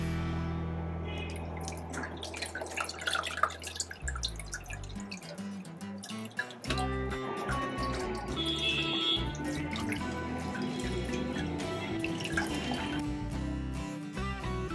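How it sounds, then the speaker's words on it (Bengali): Pumpkin flowers are washed in water: dripping and splashing water with handling sounds, running fairly steadily at moderate loudness nearby. "এবার আমরা ফুলগুলোকে ভালো করে ধুয়ে নেব"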